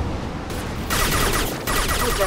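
Gunfire from the video game Mass Effect 2, with dense rapid shots and bursts packed into a couple of seconds. The firing is loud and close over a constant background of game noise.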